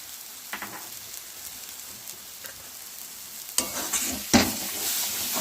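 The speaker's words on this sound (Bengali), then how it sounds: "সেটাকে আমি এবার ভালো করে নেড়ে নিচ্ছি" Shrimp paste and taro leaves cooked in milk are stirred in a pan, with soft sizzling under intermittent scraping and clattering strokes of a spoon that grow louder and busier in the second half.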